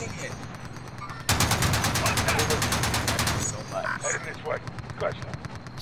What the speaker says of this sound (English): So many fucking bullets that I just dispensed.